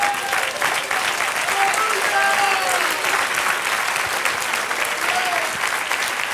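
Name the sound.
church congregation applauding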